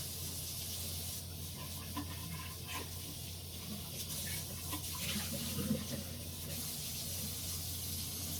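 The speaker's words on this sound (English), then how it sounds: "now I'm rinsing out my coffee pot" Tap water runs steadily into a Corningware percolator coffee pot as it is rinsed out, a continuous close hiss and splash with slight swells of sloshing and no talking.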